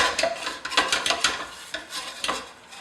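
A meat dish spiced with sweet paprika is stirred vigorously in a pan, producing close, rhythmic scraping and clattering strokes of a utensil against metal over a light sizzle.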